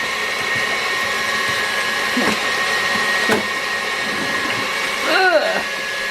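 An electric mixer whips eggs in a home kitchen, a steady whirring drone running throughout, with brief clatters and a short rising whine near the end.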